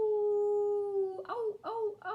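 A voice imitates a dog howling at the moon: one long sustained howl followed by three shorter rising and falling howls, close and fairly loud.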